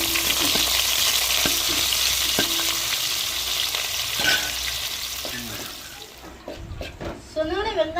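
Onions, mustard seeds and curry leaves fry in hot oil for sambar, a loud crackling sizzle with stirring scrapes that eases toward the end as a voice starts talking.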